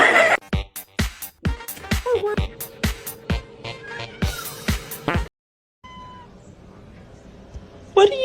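A pet cat named Mimi meows in drawn-out, whiny tones among sharp clicking sounds, with a short silent gap near the end.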